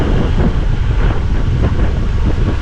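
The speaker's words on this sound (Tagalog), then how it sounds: "Talagang sobrang lakas ng hangin dito kasi palayan yan" Strong wind sweeps across open rice paddies in the countryside, buffeting the microphone of a GoPro Hero 10 Black with loud, gusty low-frequency rumbling throughout, and no one speaking.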